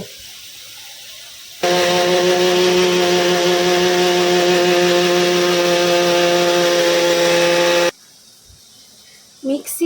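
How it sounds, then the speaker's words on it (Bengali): A mixer grinder grinds poppy seeds for aloo posto, its loud steady motor whine running for about six seconds. It starts and stops abruptly, with a quiet kitchen before and after. "পোস্তটা শিলে বাটলে বেশি ভালো হয় তবে আমি মিক্সিতেই বাটবো"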